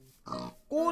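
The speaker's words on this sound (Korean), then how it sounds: "꽃을 든 돼지" Minecraft pig oinking, a couple of short nasal grunts in quick succession, close and clear within under a second.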